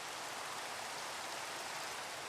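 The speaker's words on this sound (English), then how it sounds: "It's raining in the game rather than out in the real world" Steady rainfall in the blocky sandbox game Minecraft, a soft, even hiss of falling rain that continues unbroken throughout, faint and with no talking.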